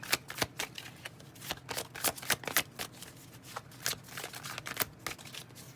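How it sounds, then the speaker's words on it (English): Tarot cards are shuffled by hand in quick, irregular bursts of soft riffling and slapping, close and fairly quiet, continuing throughout with no talk. "That means they want me to stop shuffling them."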